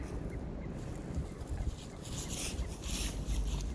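Birds call outdoors, with faint honking waterfowl-like cries that grow louder near the end over a steady background hiss.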